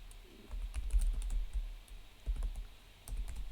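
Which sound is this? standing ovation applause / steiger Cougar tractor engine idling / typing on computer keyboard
typing on computer keyboard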